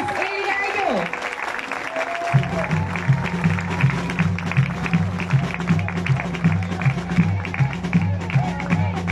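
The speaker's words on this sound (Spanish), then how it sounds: "le brindemos un fuerte aplauso" A crowd applauds Christopher Santos at his swearing-in as municipal coordinator, steady clapping filling the room while rhythmic background music with a pulsing beat plays underneath after an announcer's voice at the start.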